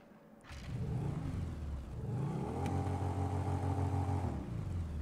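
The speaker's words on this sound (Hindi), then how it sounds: "हाँ मुझे पता है इस बाइक की थोड़ी बुलेट जैसी आवाज़ है" A Ducati motorcycle engine in the GTA 5 video game revs up and holds a steady, throaty drone, rising in pitch and then easing, fairly close and alone without talk.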